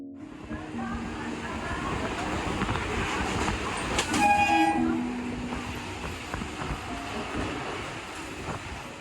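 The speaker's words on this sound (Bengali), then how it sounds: "এখন ট্রেন এগিয়ে চলেছে ফুল স্পিডে" The Rajdhani Express from Sealdah to New Delhi runs at full speed, giving a steady rumbling roar with rattling carriages and a brief horn blast midway.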